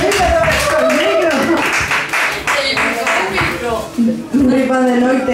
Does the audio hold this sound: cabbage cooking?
no